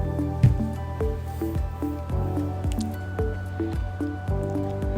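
Spinach paneer curry with kitchen king masala being stirred in a pot, heard as repeated wet squelching and dripping sounds in an uneven rhythm, close up and moderately loud, with no talk.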